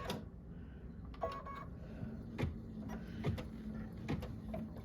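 Embroidery machine sewing out a quilting design in the hoop, giving a steady mechanical hum with a rhythmic stitching chatter and occasional louder clicks, heard close up without speech.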